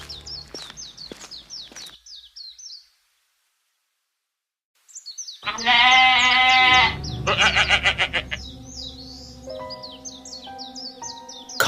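Sheep bleat in a cartoon farm scene, with several wavering, nasal cries loud and close, mixed with chirpy bird-like calls and broken by a stretch of silence.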